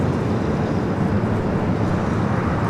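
A Boeing 787 Dreamliner airliner at Los Angeles International Airport gives off a steady, even broadband jet rumble at a distance, unbroken and with no voices over it.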